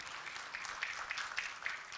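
Audience applause at an award and honouring ceremony for an artist: a steady, dense wash of many hands clapping, fairly distant and even, with no voices on top.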